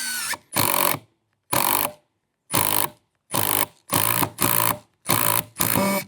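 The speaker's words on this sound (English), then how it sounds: "it only lets you pulsate the drill for a little amount of time" An impact driver on its pulse setting buzzes loudly in eight short, even bursts separated by brief silences, each burst a steady whirring pulse close by.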